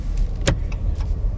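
Car traffic on Main Street in Bar Harbor beside the Village Green, with a steady low rumble of passing vehicles and one brief louder pass near the middle.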